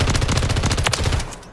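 A TAQ Evolvere firing from the hip in Modern Warfare 3, a loud rapid automatic burst of close shots that runs for over a second and then stops.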